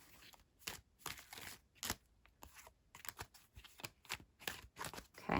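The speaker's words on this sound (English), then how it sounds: "Let's see if I can shuffle." Quick, crisp riffling and slapping of tarot cards being shuffled by hand, a rapid irregular run of soft papery bursts, close and quiet with no talking.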